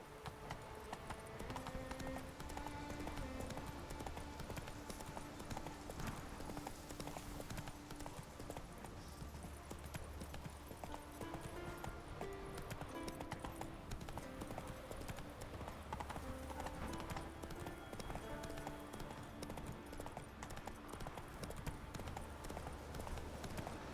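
Roach, the horse in The Witcher 3, gallops across Skellige with steady rhythmic hoofbeats under game music and ambience, close and continuous throughout.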